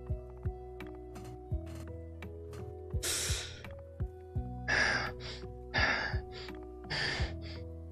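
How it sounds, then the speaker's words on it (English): A happy gasp: several breathy, airy gasps rise and fall over a steady tonal hum, with light ticking clicks underneath. "I think that's a happy gasp."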